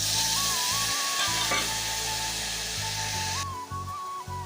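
Soaked dried mango pieces dropped into hot mustard oil with dried red chillies and mustard seeds, a loud close sizzle and crackle that runs steadily throughout, with a faint steady tone in the background.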